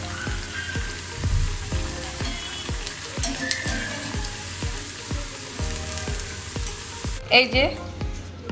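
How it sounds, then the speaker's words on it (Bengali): Onion fritters (piyaju) fry in oil over low to medium heat with a steady close sizzle, broken by regular soft pops. A brief clatter near the end. "লো টু মিডিয়াম আছে ভাজতে হবে, তাহলে ভালো ক্রিস্পি হবে আর পুড়বেও না।"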